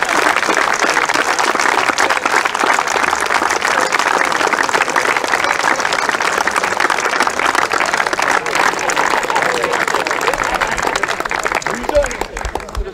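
Outdoor crowd applause at a cricket T20 cup presentation for the runners-up, Preston Nomads, with continuous clapping over the whole stretch and an announcer's voice over a PA running on top of it.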